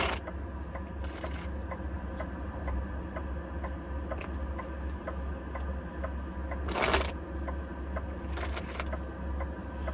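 Playing cards riffle and flutter in a few brief shuffling bursts, close by, over a low steady background hum.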